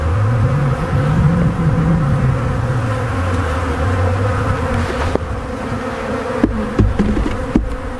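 Honey bees robbing an open hive box buzz loudly and continuously, a thick swarm drone close to the listener with a low wavering hum. A few short clicks and knocks come near the end.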